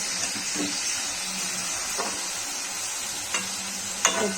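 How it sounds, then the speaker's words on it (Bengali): Vegetables for fried rice frying in a pan with a steady hiss, broken by a few spatula scrapes and clinks at irregular moments, close and moderately loud, with no talking. "দিয়ে আবার ভালো করে ভেজে নেবো"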